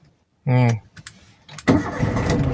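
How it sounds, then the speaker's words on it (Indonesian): A manual car engine is restarted after stalling at a standstill: a brief starter crank catches into a steady idle, close and fairly loud, with someone talking briefly before it. "kemudian tekan kopling, kita netralkan, baru kita nyalakan mesinnya kembali ya, seperti ini"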